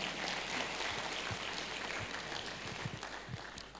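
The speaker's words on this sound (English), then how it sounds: "So shall we clap for her?" An audience at a university law colloquium applauds, dense steady clapping filling the room that slowly tapers off toward the end.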